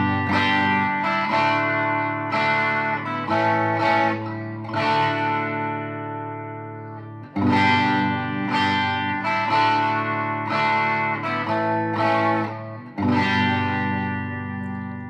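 Electric guitar through a Quilter SuperBlock UK amp, played as sustained chords with effects and light distortion, loud and alone, in two similar phrases separated by a brief break.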